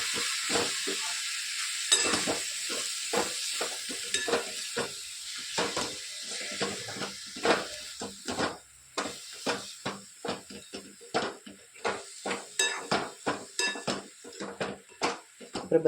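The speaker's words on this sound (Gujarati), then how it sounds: "સરસ બધું આપણે ધીમે ધીમે મિક્સ કરી લઈએ." A metal spoon stirs and scrapes through a spice and salt mixture with red chilli, garam masala, asafoetida and turmeric in a pan for a besan methi dish, giving steady clinks and scrapes over a soft sizzle.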